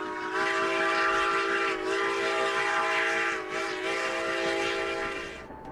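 The White Pass and Yukon railway train heard running near Skagway, Alaska, a loud and steady rolling rumble with sustained horn-like whistle tones throughout, fading at the end.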